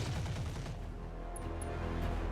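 Rapid machine gun fire in the BattleTech video game, a dense continuous burst of overlapping shots lasting a couple of seconds, steady and fairly loud with no talking.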